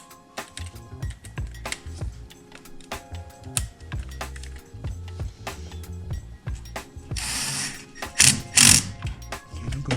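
A socket wrench with an 8mm socket ratchets down the intake clamp on a cold air intake for a 2014-2018 Chevrolet Silverado 1500, giving repeated close clicking and metallic rattles with a few brighter scraping bursts near the end.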